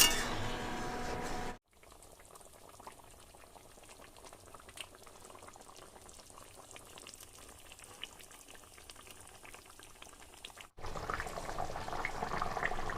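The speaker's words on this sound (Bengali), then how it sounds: "ঝোল টকবক করে ফুটে উঠেছে" Pakal fish curry gravy with potato and tomato bubbles at a gentle boil in a pot, a soft continuous burble with small pops, quiet and close, with louder kitchen noise at the very start and end.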